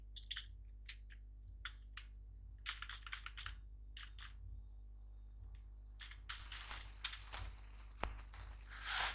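Password typed on a computer keyboard, quiet nearby key taps in short bursts with pauses between, then a denser flurry of louder clicks toward the end.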